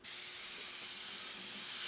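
A steady, loud spray hiss of wood stain runs continuously from a nozzle, close up and uninterrupted, with no voices.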